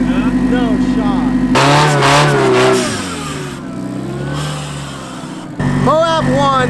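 Mazda Miata sports car engine revving hard while crawling over rocky off-road terrain at Moab, loud close bursts of throttle with a break in the middle, voices talking over it.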